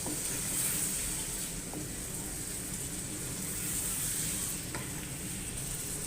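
Boiled eggs and boiled white chickpeas are stirred into biryani masala frying in a pot, a quiet, steady sizzle with faint scraping of the spoon and no talk.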